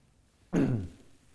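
A man giving a speech to student athletes clears his throat once with a short, rough cough, close and fairly loud, which fades quickly into quiet.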